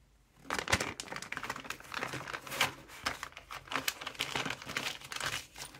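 Close, steady crinkling and crumpling as a zipper pouch bag is folded and creased along guide marks, a dense run of papery rustles and crackles lasting several seconds.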